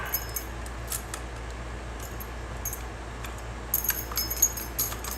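A key going into a lock on a mechanism that is not retracting: small metallic clicks and light jingles scattered over a quiet hum, a little busier toward the end.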